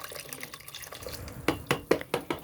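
Milk poured from a half-ounce carton into a pot of potato soup, with soft liquid splashes and a few distinct drips toward the end, close and quiet, no talk.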